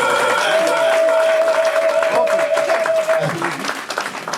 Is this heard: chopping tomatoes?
no